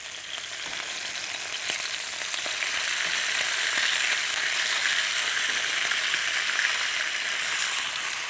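Veal scallopini with prosciutto frying face down in a pan, a steady close hiss and crackle of sizzling fat that holds on without pause.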